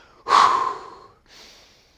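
A single sharp inhalation through the nose, followed by a softer, quieter exhale; close and isolated.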